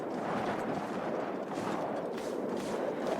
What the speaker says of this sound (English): The wind sound has really been messed up.